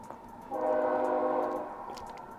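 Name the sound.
train horn blowing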